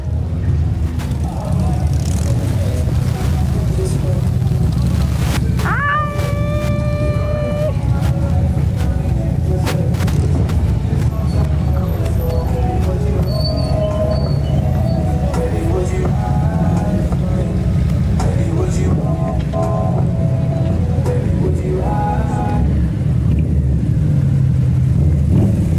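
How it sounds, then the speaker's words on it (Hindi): A heavy motorcycle engine rumbles and revs steadily for a long stretch, loud and close, with people talking over it. "आवाज इस बाइक की जब दिल पे जाके लगती है भाई।"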